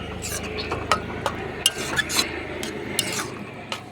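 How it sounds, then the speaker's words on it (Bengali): Spoon stirring and clinking against a pan as a raw tomato mixture with salt and turmeric is mixed, with scattered metallic taps close by under a voice talking. "এখন ভালো করে এটাকে মিশিয়ে নেব।"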